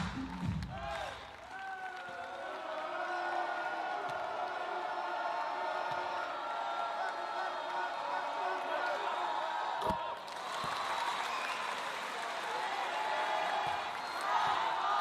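A home crowd at a Gunma Crane Thunders versus Koshigaya Alphas B.League basketball game makes a steady, broad roar of cheering throughout, swelling near the end, with a commentator talking over it and occasional ball bounces and thuds.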